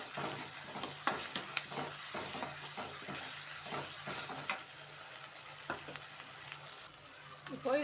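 Ginger garlic paste sizzles and fries in a pan while a utensil stirs and scrapes it, a continuous soft crackle broken by irregular clinks and scrapes, fairly quiet and close, with no talking.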